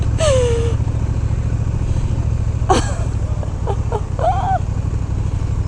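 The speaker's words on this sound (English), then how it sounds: "Officially heading to the beach on automatic motorcycles." Low, steady engine drone of an automatic motorcycle cruising toward the beach, with a few brief voice-like squeals and exclamations over the top.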